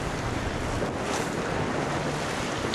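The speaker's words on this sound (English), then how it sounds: "Nice steady wind coming out of the north." Steady north wind roars over the microphone alongside the wash of water against a moving sailboat, constant and loud without any voices.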